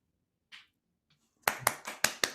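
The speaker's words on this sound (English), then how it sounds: "I'm clapping for you, Erin" Hands clap six times in an even quick rhythm, sharp and close, after a brief breath or rustle, in a comedy writing panel setting.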